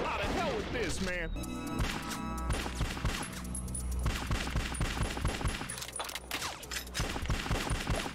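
Gunfire fills the Bad Boys: Miami Takedown video game, with dense loud bursts and crashing impacts running throughout while a voice talks over the action.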